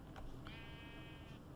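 A sheep bleats in the Minecraft survival game, one drawn-out wavering bleat with a short lead-in, clear and mid-level over a steady background hum.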